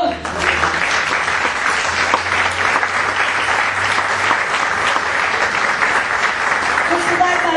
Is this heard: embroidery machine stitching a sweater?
no